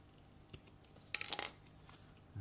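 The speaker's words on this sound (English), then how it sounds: "still using the tin snips" Tin snips trimming a millimetre off a part for an RC trailer, a quick cluster of sharp metallic snips and clicks in the middle of otherwise quiet surroundings, close and crisp.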